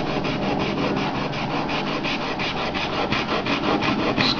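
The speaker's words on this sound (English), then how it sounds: "Now you sand this. We have to remove copper oxide, so you can use such a kind of brush" Brush scrubbing a copper PCB to strip copper oxide, a steady, loud, close rasping rub with fast regular back-and-forth strokes throughout.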